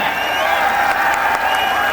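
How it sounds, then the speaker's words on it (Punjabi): Crowd applauding at the close of a village kabaddi match, Rampura Pind versus Raiya, a dense steady wash of clapping from many spectators with no single claps standing out, continuous and fairly loud throughout. "ਦੋਨੇ ਟੀਮਾਂ ਦਾ ਜੇ ਮੈਚ ਵਧੀਆ ਲੱਗਾ ਤਾੜੀ ਮਾਰ ਕੇ ਦੱਸੋ"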